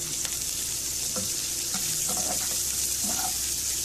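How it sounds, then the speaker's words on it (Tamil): Onions sauté in an oily pan for egg pepper masala, a continuous close sizzle with a few soft stirring scrapes over the top. "நல்லா வதக்கிக்கலாம்."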